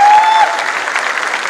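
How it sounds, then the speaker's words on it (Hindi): A large crowd at a corporate wellness company's closing speech event claps loudly and continuously, with a brief feedback-like whistle over the opening moment. "जोरदार तालियां होनी चाहिए इनके लिए"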